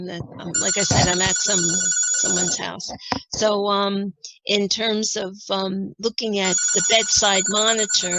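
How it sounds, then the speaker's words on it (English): A telephone rings in the room during a lecture on bedside patient monitoring. Its electronic ringtone trills repeatedly and fairly loudly, layered under a speaker's continuous talk. "And I'm sorry about that phone."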